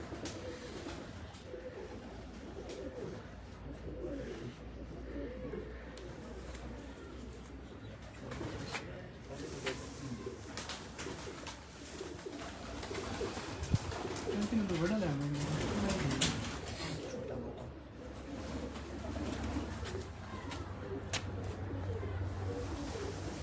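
Pigeons coo softly on a Kotli Bazaar rooftop, a low murmuring call recurring through steady background noise, with people talking over it for most of the stretch.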